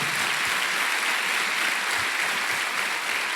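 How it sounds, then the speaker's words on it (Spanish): Steady applause from a church congregation, dense and continuous clapping filling the whole moment with no voices over it. "Da un aplauso grande a Jesús."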